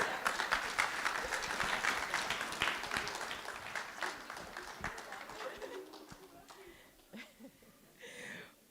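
Applause from an audience at a guide dog graduation ceremony, a dense patter of clapping that fades out toward the end, with a few voices and faint chatter appearing as it dies away.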